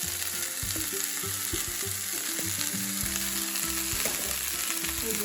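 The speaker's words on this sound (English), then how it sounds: "We're just going to put that right in the skillet, and all of our corn." Beans and corn for succotash frying in a skillet with garlic: a steady, continuous sizzle over a sustained tonal musical backing, with no talking.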